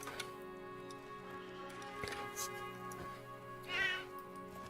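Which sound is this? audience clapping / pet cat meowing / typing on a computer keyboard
pet cat meowing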